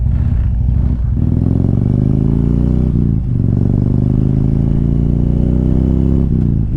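A big Harley-Davidson V-twin motorcycle rumbles loudly and deeply close by as it rides out, the engine revving up through gears with brief dips between pulls.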